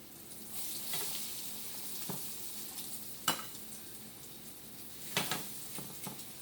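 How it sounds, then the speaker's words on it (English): Breaded chicken breasts fry in hot olive oil in a pan with a soft, steady sizzle and hiss, broken by a few sharp clicks of utensils, all fairly quiet and without speech. "We're just going to fry them up on one side."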